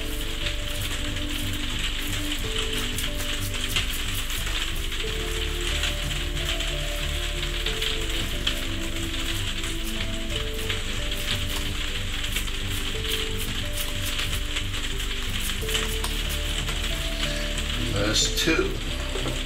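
Burgers sizzle on a George Foreman smokeless indoor grill, a continuous, fairly loud crackling fry with dense popping throughout and a brief scrape near the end.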